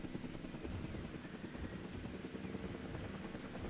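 In Jurassic World Evolution 2, a helicopter carries a tree trunk, its rotor giving a steady, faint whirring drone throughout with no pauses.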